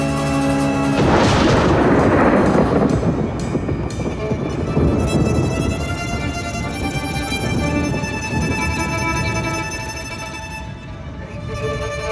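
A heavy boom of thunder rolls in a worsening storm at sea and then fades into a long, rumbling wash of wind and weather. The sound is loud and close, with no voices.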